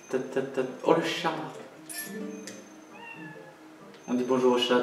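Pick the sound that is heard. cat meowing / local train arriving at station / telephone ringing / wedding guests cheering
cat meowing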